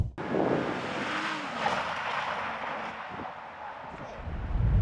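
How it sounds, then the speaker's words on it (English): A car speeds over a crest, then brakes and corners, heard from close by as a loud continuous rush of engine and road noise with a brief tire squeal, swelling again at the end. "Lots of speed, keep her straight over crest, then braking, easing off, make the corner"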